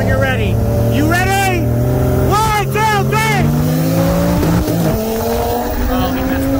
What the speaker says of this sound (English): I'm here in the RS3, and the first race we're gonna do is from 40 miles an hour